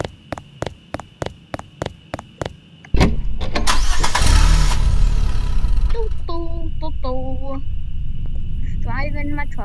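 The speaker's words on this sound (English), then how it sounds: "Driving my truck." A truck engine cranks with a rapid series of starter clicks, then catches and roars to life up close, settling into a loud steady idle with electronic beeps chiming over it.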